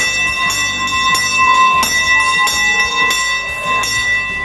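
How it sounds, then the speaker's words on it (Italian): A hand bell is rung to announce new participants at a stage show, giving a bright, continuous metallic jangle with repeated strikes and shimmering overtones throughout. "suonando una campana che li annuncia come nuovi"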